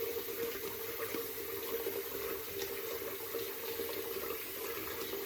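Tap water runs steadily into a sink while preparing for a straight razor shave, a constant, fairly quiet splashing hiss with no talk over it.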